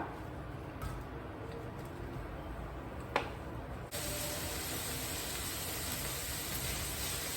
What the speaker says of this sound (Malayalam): എണ്ണ ചൂടായി കഴിഞ്ഞാൽ സ്ലൈസ് ചെയ്ത ഓണിയൻസ് ചേർത്ത് കൊടുക്കാം.